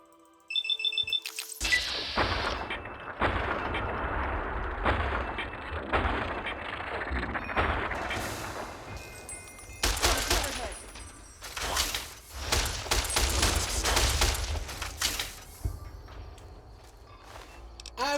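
Weapons unload in VATS in the Fallout New Vegas video game, with bursts of loud gunfire and impacts in clustered volleys separated by short pauses, mixed with game effects and occasional voices.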